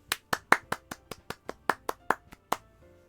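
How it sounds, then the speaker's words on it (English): Applause in the Doki Doki Literature Club Plus video game: a dozen crisp, evenly spaced hand claps, close and dry, tapering off after about two and a half seconds with no talking. "The four of us applaud."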